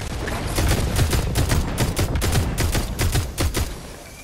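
Rapid bursts of gunfire in the video game Fortnite, a dense string of close, loud shots fired in quick irregular volleys with no talking.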